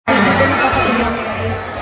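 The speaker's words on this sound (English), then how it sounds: "Round of applause for the leader and done." An audience at a sea lion and bird show at Manila Ocean Park breaks into loud, sustained applause and cheering from the stands, mixed with crowd chatter and a voice over the noise.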